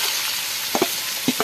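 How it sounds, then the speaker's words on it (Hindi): Boiled jackfruit with potato in a pan for kathal sabzi, a soft frying hiss with a few brief spoon clinks and scrapes. "अभी मैं सब्जी डाल रही हूं। जो बॉईल किया हुआ है जो कटहल"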